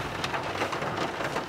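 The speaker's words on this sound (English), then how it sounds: "Did it just thunderstorm outside?" Rain falls steadily outside during a thunderstorm, a dense, continuous hiss of drops with a faint low rumble underneath, heard for a moment.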